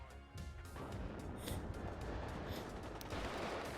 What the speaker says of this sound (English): Artillery going in on the command there